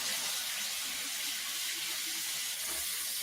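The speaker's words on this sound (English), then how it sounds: "let me rinse off my spatula" Tap water runs in a steady, soft hiss as a spatula is rinsed under it in a kitchen, with no voices.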